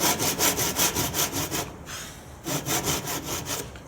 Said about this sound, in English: what I've got is 2 saw cuts